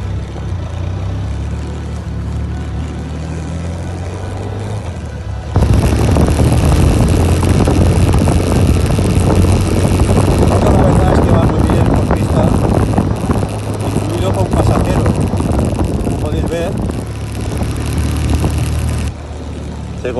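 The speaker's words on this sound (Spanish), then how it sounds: "Vamos a arrancar nuestra moto." A Benelli TRK 502X motorcycle engine on a forest track runs loudly and steadily, then surges louder as it revs and moves off, a constant droning roar throughout.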